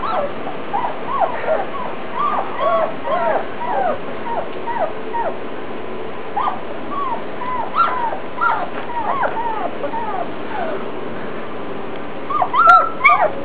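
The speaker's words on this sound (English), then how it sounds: "Here's the puppies. They're 14 days old." Fourteen-day-old puppies whimper and squeak in a steady chorus of thin, high, rising whines, many small voices overlapping close by throughout.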